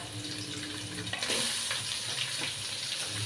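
Chopped onions, coconut and green chillies sauté in a hot pan for a soya dry fry, giving a steady broadband sizzle throughout, with brief louder scraping and stirring bursts near the middle.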